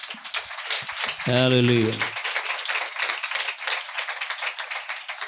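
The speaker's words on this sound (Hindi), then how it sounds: "खुदा के कलाम के लिए तालियां बजाएं।" A church congregation claps during a sermon on the seven things God hates. Rapid, crowded clapping runs throughout, while one voice cries out loudly over it partway through.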